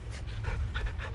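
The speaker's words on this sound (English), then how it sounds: "We'll pet him again. We'll give him another. He's such a good dog." A companion dog in Final Fantasy XVI pants quickly while being petted, short close breathy huffs in a steady rhythm over a low rumble, with no voices.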